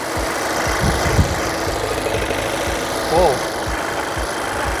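A car engine idling with the hood open, a close, steady mechanical rumble with a rattly, ticking texture, while people talk over it.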